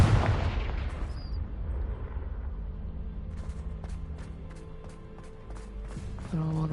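Confringo fire spell blast in the Hogwarts Legacy video game: a loud, broad explosive burst at the start that decays into a rumbling tail, followed by lighter rhythmic game effects and a low hum.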